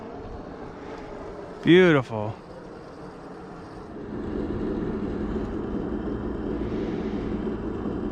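Simulated engine sound effects from an upgraded FMS FJ40 RC crawler: a steady, close low rumble begins partway through and runs to the end, following a short spoken word and a brief tonal burst.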